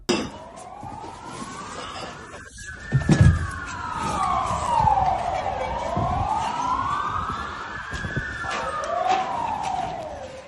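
A long, slow air raid siren wail over Kyiv rises and falls in broad sweeps over a continuous background rumble, loud and sustained throughout.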